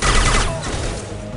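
A short, loud burst of automatic gunfire in Mass Effect 2 during a fight with Blue Suns mercenaries on Sanctum, a booming volley that fades quickly into game ambience.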